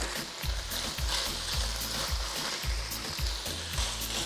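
Lamb frying in oil in a pan, cooking down its juices: a steady hiss and sizzle with a rhythmic low scraping or stirring roughly every half second, close and constant.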